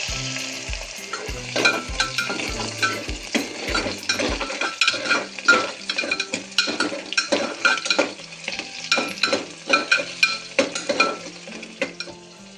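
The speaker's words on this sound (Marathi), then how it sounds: "ते कांद्यासंग तळून घ्यायचं, म्हणजे आपल्या रश्श्याला चव छान येते" Onions fry in hot oil for a spicy, village-style Maharashtrian dry mutton dish, a steady close sizzle broken by frequent scraping and stirring strokes against the pan, with a rhythmic thudding in the first few seconds.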